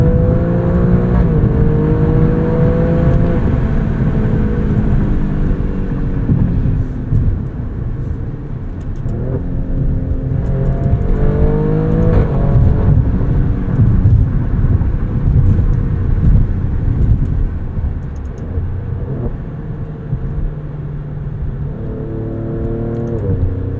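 A 2022 Alfa Romeo Stelvio Quadrifoglio engine heard from inside while driving, a loud continuous drone whose pitch climbs and falls through repeated rev sweeps and gear changes, with road rumble underneath and no talking.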